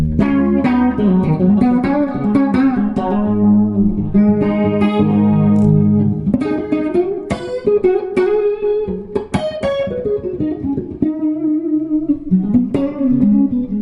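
An electric guitar plays chords and short phrases through a shimmering, warbling effect, ringing and loud with no talking.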